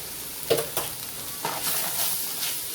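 Seasoned ground meat in a pot is stirred after a half teaspoon of cumin goes in, giving a steady soft sizzle broken by a few close scraping stirs, with no talking.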